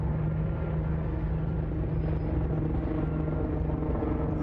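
Steady low rumble of a helicopter droning overhead in Waukesha, Wisconsin, constant and moderately distant, with no voices.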